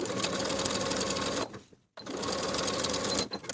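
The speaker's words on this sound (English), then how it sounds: "Sew the slanted seam with a 3/8 inch seam allowance, then press that allowance toward the pocket lining." A sewing machine stitches a slanted pocket seam on pull-on pants with a steady, fast mechanical whir, pausing briefly in the middle before running again, close and alone.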